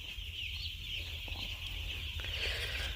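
Young chicks and chickens on a poultry farm, a dense steady chorus of high peeping and soft clucks over a low constant hum, with occasional faint knocks.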